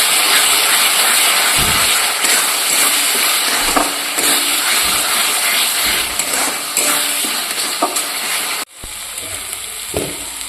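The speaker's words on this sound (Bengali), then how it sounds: "এটাকে ভালো করে আবার কষিয়ে নেব।" Spiced mutton with turmeric, red chili powder and salt sizzles steadily as it is sautéed in a pan, with continuous loud frying hiss and occasional scraping stirs throughout.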